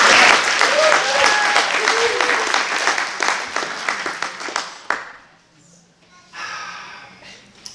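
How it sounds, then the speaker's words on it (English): Congregation applause during a church service, a burst of loud clapping from the gathered people that thins out after a few seconds, with breathy sounds and a brief voice near the end. "a little round of applause for my daughter Katie."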